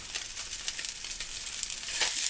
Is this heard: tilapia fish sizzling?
yes